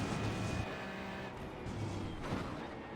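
A Ferrari 296 GT3 race car in iRacing laps Road Atlanta, its engine holding a steady, close droning note that dips and rises slightly as the car is set up for a corner.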